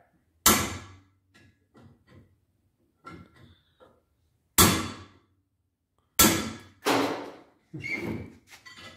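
Sharp metallic hammer strikes on a driver tool knocking out a welded seat insert ring out one at a time, with lighter taps and clinks between the heavy blows, close and loud.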